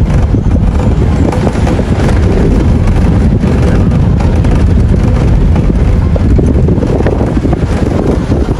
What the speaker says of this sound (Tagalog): sarap yung simoy ng hangin dito